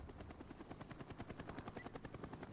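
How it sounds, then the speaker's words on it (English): A counter spy plane in Black Ops 1 passes overhead. Its rotor-like engine makes a rapid, pulsing chop that stays fairly faint and even throughout. "Our counter spy plane's in the air."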